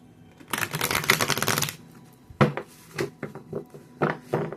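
Oracle cards being shuffled by hand, a dense riffling burst over about a second, then scattered softer card taps and flicks, close and alone.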